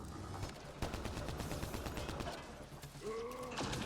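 Rapid automatic gunfire in Mass Effect Andromeda rattles in a dense, continuous stream with mechanical clatter, fairly faint and steady throughout, with a few brighter tonal game effects toward the end.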